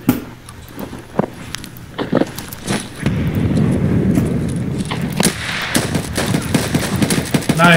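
Rapid bursts of automatic gunfire in the shooter game Escape from Tarkov at a USEC camp, sharp cracks and volleys repeating throughout with a dense sustained stretch of firing, close and loud.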